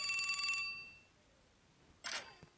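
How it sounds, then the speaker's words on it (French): A bell is pressed twice, two bright metallic rings some seconds apart, each ringing out briefly and fading in a quiet room. "si on appuie sur la cloche"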